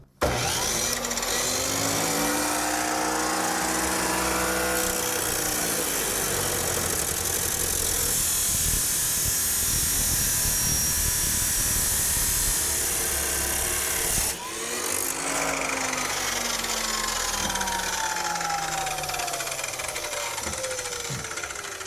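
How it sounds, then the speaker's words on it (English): A power cutoff tool with a worn cutting wheel slices through metal for a home-built off-road trailer. It makes a loud, sustained grinding whine that breaks off briefly midway and then resumes, with no talking. "This cutoff wheel that's in this thing, it's I don't think it's got a lot of life left in it."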